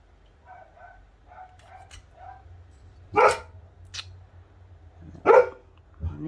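Dogs bark in a quiet home setting, with faint distant neighbors' dogs yapping in a rhythmic series before two louder, nearer barks answer back over a low steady hum.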